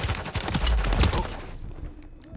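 Rapid gunfire from a Call of Duty match rattles out as a dense burst of shots, loud and close, for about a second and a half before thinning into a quieter tail.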